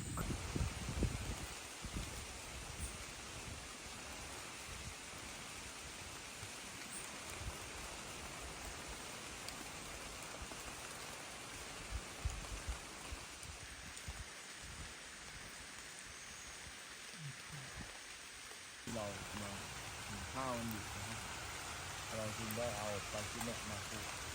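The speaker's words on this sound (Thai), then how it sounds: "เพราะว่าฝนเนี่ย เริ่มที่จะกระหน่ำลงมาแล้วพี่" Heavy rain pours down on a forest at night, a steady dense hiss of drops on leaves and surfaces that holds for the whole stretch with no break.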